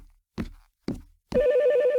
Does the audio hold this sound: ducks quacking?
no